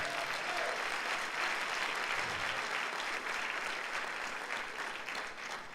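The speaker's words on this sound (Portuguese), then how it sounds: "Dá um aplauso ao Senhor Jesus." A church congregation applauds, with steady, dense clapping filling the room at an even level throughout, no voice rising above it.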